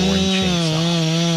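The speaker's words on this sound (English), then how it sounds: "holding tightly onto a roaring chainsaw. The saw blade dug deep into the tree trunk," A chainsaw roars steadily as it cuts deep into a large tree trunk, its engine loud and close with a constant high whine that shifts pitch slightly as the blade bites in, heard alone with no talk.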